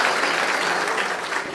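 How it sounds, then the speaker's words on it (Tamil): Loud, continuous applause from a crowd at a DMK political gathering welcomes a party speaker, dense and steady throughout and easing slightly at the end. "பலத்த கைத்தட்டலுடன் வரவேற்போம்."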